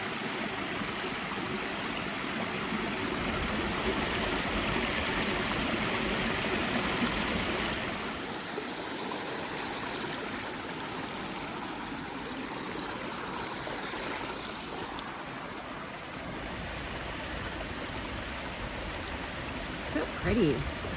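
A stream flows along the Appalachian Trail, a steady rushing, gurgling wash of water that fills the scene throughout, close and continuous, with faint bird chirps above it.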